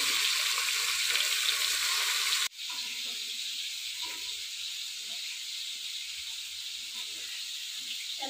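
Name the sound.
catla fish frying in oil in a pan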